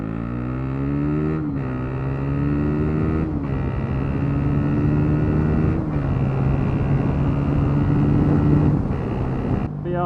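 Motorcycle exhaust with the baffle fitted, running steadily near the microphone with a strong harmonic engine drone whose pitch dips and recovers several times as the throttle changes, somewhat muffled but still loud, with wind noise.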